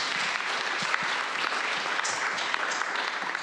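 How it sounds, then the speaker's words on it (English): Dense, continuous audience applause, a steady wash of many hands clapping at even loudness throughout, fairly close and with no talking over it. "I want to give a round of applause to you guys"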